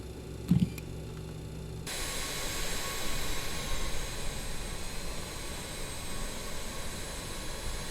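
The jet engines of a BAe 146 airliner spool up in Microsoft Flight Simulator at Paris CDG. A faint click is followed by a steady, loud broadband roar and whine that fills the rest of the clip.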